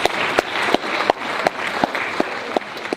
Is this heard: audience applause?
yes